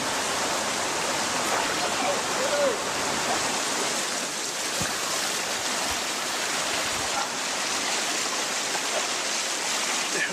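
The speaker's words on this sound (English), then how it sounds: "The river is much higher than usual" A swollen river after heavy rain rushes in a dense, constant roar of water, loud and unbroken throughout, with no voices.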